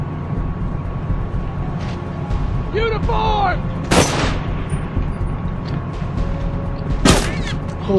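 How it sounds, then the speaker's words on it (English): A single sharp sniper rifle shot cracks loudly in The Last of Us Remastered multiplayer, then a second distant report follows a few seconds later over a low rumbling ambience, with brief voice-like chirps between. "I got sniped from a distance"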